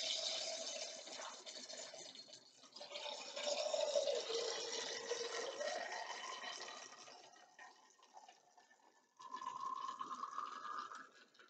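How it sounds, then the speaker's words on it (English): Melted fir pitch with bits of bark poured from a pot, heard as a long, faint, hissing and scraping flow with shifting pitch that briefly stops and then resumes. "I'm just going to pour it."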